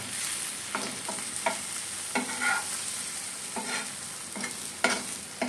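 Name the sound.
slowly stirring egg bhurji in a pan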